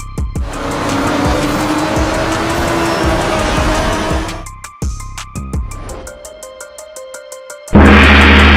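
Cars race in a chase with a long, loud tire squeal and skidding, then a jolting impact and rattling debris, ending in a heavy crash noise.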